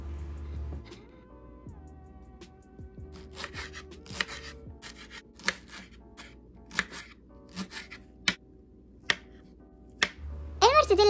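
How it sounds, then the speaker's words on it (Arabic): A knife cuts mortadella into slices on a board, producing sharp, separate taps that come at an uneven rhythm, fairly close and clear against a quiet background. "المرتديلا قطعتها بهذا الشكل علشان يجي شكلها زي اللي في الأنمي"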